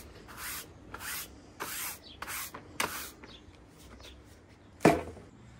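Broom bristles sweep a bathroom floor before sheet vinyl goes down, five rough scratchy strokes in a steady rhythm, close and fairly quiet, followed by a sharper single scrape near the end.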